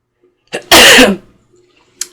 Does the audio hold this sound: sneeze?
yes